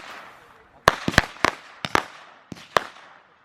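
Fireworks and firecrackers at a 4th of July backyard display, about nine sharp bangs and pops in an irregular burst sequence, moderately near, with a faint hiss between the reports.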